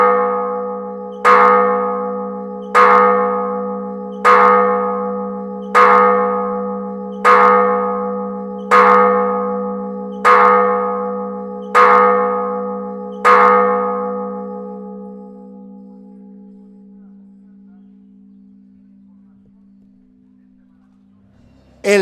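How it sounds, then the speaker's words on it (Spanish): A single church bell strikes ten times at a slow steady pace, each stroke ringing loudly and the last one fading out over several seconds. "El repique es el primer lenguaje de las campanas."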